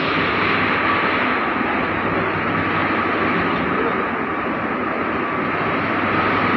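A passenger train idles at Kamalapur railway station in Dhaka before leaving for Noakhali, its engine a loud, steady, unbroken drone with no other distinct sounds.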